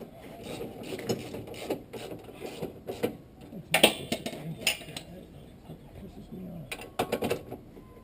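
A ratchet and socket tightening bolts on a car, with several bursts of quick metallic clicking and clinks spread across the stretch, fairly close and separated by quieter handling noise.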